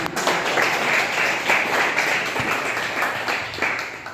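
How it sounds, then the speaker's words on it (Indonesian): A class of students applauds a group after its discussion presentation, a steady wash of many hands clapping at fairly close range with no talk, sustained for about four seconds. "Kita berikan aplaus untuk kelompok 5"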